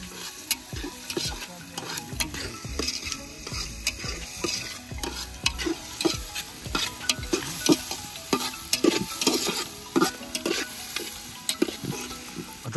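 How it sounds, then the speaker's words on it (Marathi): Garlic and onion fry in hot oil with a steady, close sizzle, broken by frequent stirring scrapes and clicks throughout, with no voices. "लसूण मस्त फ्राय करून घ्यायचं आहे. कांदा मस्त फ्राय करून घ्यायचं ना मस्त."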